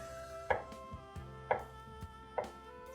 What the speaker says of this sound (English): you cut your squash about half, and same thing with your squash